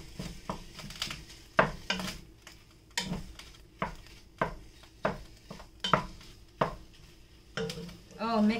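Ground pork and beef being stirred in a pot while cooking chili. Quiet, repeated scraping strokes come roughly once a second in a steady rhythm.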